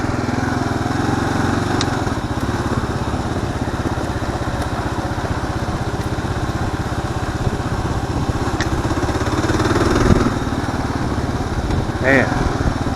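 A Kawasaki KLR motorcycle engine running steadily while riding off-road on a camping weekend, a loud continuous thrum close to the mic with brief revs near the end and voices talking over it.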